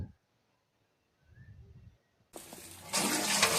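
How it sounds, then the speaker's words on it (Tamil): Tender coconut water being poured out of a temple lamp, a short splash of liquid that rises into a loud, sustained rush of pouring water, close by. "அந்த விளக்கில் இருக்கிற அந்த இளநீர் தண்ணியை எடுத்து ஊற்றிட்டு இருக்காங்க"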